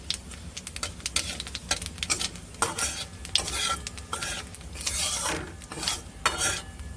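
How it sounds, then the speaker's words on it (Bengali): Dried red chillies and black cumin fry in plenty of hot oil in a pan, crackling and sizzling close by while a utensil stirs and clinks in quick, irregular bursts. "ওই তেলের মধ্যেই দিয়ে দিলাম শুকনো লঙ্কা আর কালো জিরে।"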